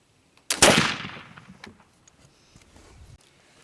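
Flintlock gun firing homemade black powder, a single loud, sharp blast with a long fading roar, followed by faint rattling and quiet.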